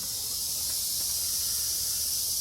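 Aerosol primer sprayed onto a sanded car dashboard, a steady close hiss running unbroken throughout with no pauses or talk.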